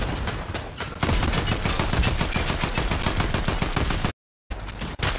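Rapid automatic gunfire in the video game Fortnite, dense rattling bursts with a brief silent gap near the end, loud and close.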